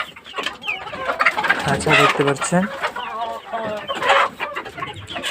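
Farm hens cluck and squawk in a cage, with busy overlapping calls close by, while a person talks over them.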